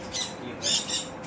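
A parrot at an animal farm gives two or three harsh, raspy squawks in quick succession, close and fairly loud.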